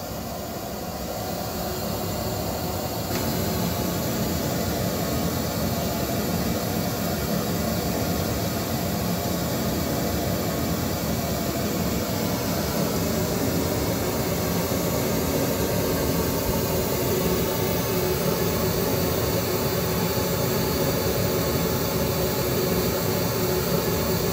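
Two horn loudspeakers running side by side, giving a steady, loud broadband roar that grows slightly fuller after the first few seconds, continuous throughout with no speech.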